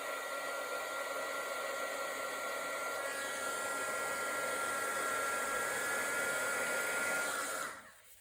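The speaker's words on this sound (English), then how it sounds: "but heat up your heat gun." Heat gun warming up to soften glue on a craft card, a steady close whooshing blower hiss with a faint high whine, holding constant for several seconds before it switches off and dies away.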